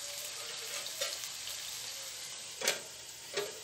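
A soft continuous sizzle of sausage frying in a covered pan, with a few brief louder hisses and spatters breaking through.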